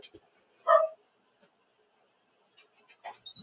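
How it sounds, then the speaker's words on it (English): A single short dog bark stands out near the start, followed by quiet and a few faint, scattered sounds. "He's been barking at nothing."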